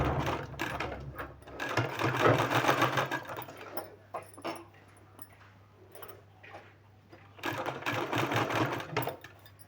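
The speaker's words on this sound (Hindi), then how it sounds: "तो चलिए आपको हम स्टिच करके बताते हैं।" Sewing machine stitching pieces of sleeve fabric in two steady, fairly loud bursts, first near the start and again near the end, with quieter handling and a low hum in between.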